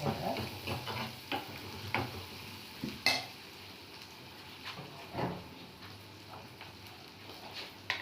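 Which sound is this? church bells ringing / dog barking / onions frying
onions frying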